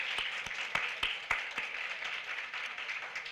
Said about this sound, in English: Let's give a round of applause for Annie Fisher STEM.